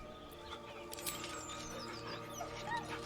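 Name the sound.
dog whimpering nervously, from the Baldur's Gate 3 video game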